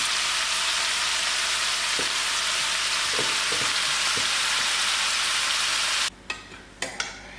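Sweet pumpkin curry cooking over a fire, a loud unbroken sizzle and crackle with a few soft knocks, stopping abruptly near the end before some brief clatter.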